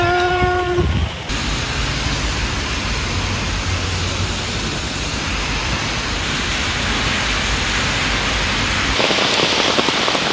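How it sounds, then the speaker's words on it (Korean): Heavy summer downpour pouring loud and close as a dense, steady hiss that fills about eight seconds, after a few brief tones at the very start. No one speaks. "비가 진짜 오지게 와요"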